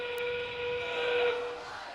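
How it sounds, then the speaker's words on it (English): A whistle blows to signal endgame during a robotics competition match. The sustained tone sits close over steady arena noise and crowd murmur. "That whistle means we're at endgame."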